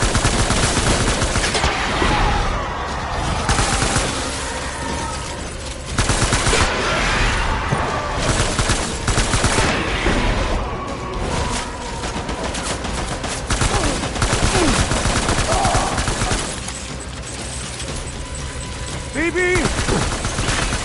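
Sustained gunfire opens on command, dense bursts and rapid shots filling the scene with loud crackling volleys, interrupted by brief lulls, with voices mixed in.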